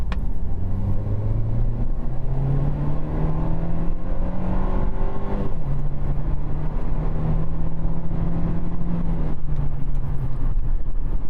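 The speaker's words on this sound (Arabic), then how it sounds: "يلا بينا نحط العربية على سبورت بلس، نشوف ادائها هيبقى عامل ازاي" A Mercedes C180 W205 sedan from 2016, Avantgarde trim, driven in Sport Plus mode: a steady engine note climbs in pitch as it revs up, then drops and holds, a continuous close-up drone with no talking.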